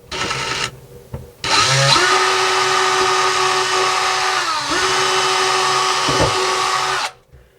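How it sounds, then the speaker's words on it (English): A power drill whines loudly and steadily as it bores through a 3/4-inch piece of wood on a kitchen cabinet, starting after a brief burst, with pitch dips under load before stopping. "you're just drilling through this wood here."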